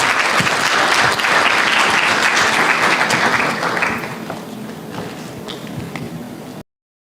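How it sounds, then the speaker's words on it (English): Applause from the audience at the Africa Employers' Summit in Nairobi, full and steady at first, then thinning to scattered claps before cutting off. "applause."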